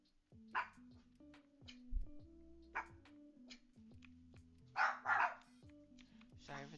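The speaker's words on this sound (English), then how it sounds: "Sorry for the barking." A dog barks several times in short bursts, faint and somewhat distant, over a constant low electronic hum from a Roblox Adopt Me! game, with no speech over the barks.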